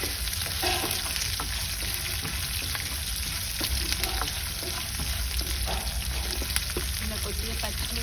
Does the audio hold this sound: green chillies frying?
yes